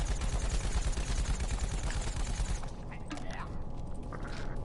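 Assault rifle fire from a zombie soldier in Plants vs. Zombies Garden Warfare 2 rattles in a dense, loud automatic burst for about two seconds, then gives way to mechanical clicks and game effects.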